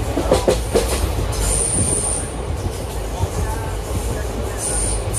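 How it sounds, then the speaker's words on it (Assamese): A train rolls along close by on the way to the Ambubachi fair, with a continuous loud rumble of wheels on track, rhythmic clatter early on and thin, high wheel squeals that come and go. "ট্ৰেইনৰ এই দৃশ্যটো মানে খুব ভাল লাগে"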